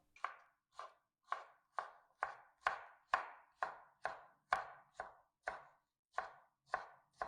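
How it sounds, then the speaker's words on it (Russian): Rhythmic knife chops dicing cucumber on a cutting board, about fifteen evenly spaced crisp strikes, close and clear with silence between. "Теперь их надо нарезать. Нарезать буду кубиками"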